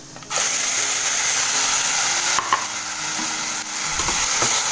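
Coconut chutney hits hot oil with frying urad dal, setting off a sudden loud, hissing sizzle that holds steady and close, with brief stirring clinks near the end.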